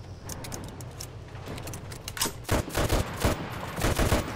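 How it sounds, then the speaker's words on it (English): Gunfire in the online multiplayer shooter game Enlisted, a dense stream of rapid shots that grows louder and heavier toward the end, layered over a constant background of battle noise. "Covering fire, come on."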